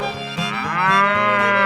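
A cow in a 3D animal sliding game moos once, a loud, drawn-out low call that rises into a steady tone and holds to the end, with no voices over it.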